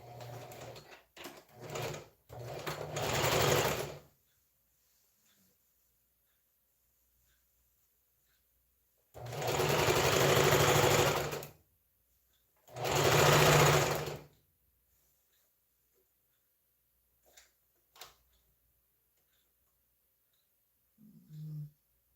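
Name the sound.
sewing machine stitching fabric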